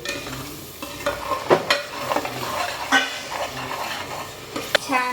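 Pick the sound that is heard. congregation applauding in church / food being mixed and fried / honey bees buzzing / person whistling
food being mixed and fried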